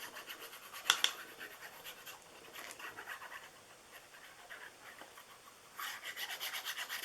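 Paper mat being rubbed down onto a small Christmas craft purse, with soft, close scraping strokes. A brief knock comes early, and a steadier run of rubbing follows near the end.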